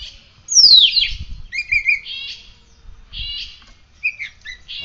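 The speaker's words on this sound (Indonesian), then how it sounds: "cucak jenggot" A bearded bulbul (cucak jenggot) calls close by with bright, repeated whistled phrases: a sharp descending note, then a run of warbling trills that pause and resume, with no other sounds.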